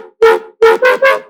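A distorted, stereo-widened synth layer for a tonal riddim, four short buzzy stabs in a quick rhythm, loud and up front, with no talking.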